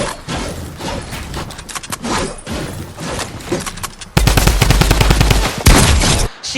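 Rapid bursts of gunfire in the Fortnite video game, dense cracking shots in quick succession with a louder, sustained volley toward the end, close and prominent.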